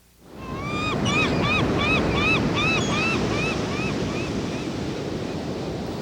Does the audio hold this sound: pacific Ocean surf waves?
yes